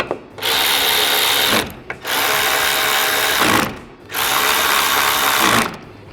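Power driver tightening bolts with a 4mm hex bit on a Z1 Off-Road roof light mount for a Nissan Xterra, three sustained whirring bursts separated by brief pauses, close and loud.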